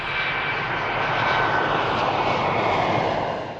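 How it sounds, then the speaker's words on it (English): Boeing 787 jet engines during a test flight, a smooth sustained roar with a broad whooshing hiss and faint tonal whine, steady and fairly loud, swelling slightly mid-way and easing at the end. "The test pilots then performed multiple takeoffs and approaches, going through every possible engine thrust setting."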